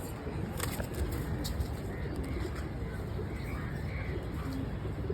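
Soft white pigeons coo repeatedly in the background, faint against steady noise, with occasional rustling and murmuring voices.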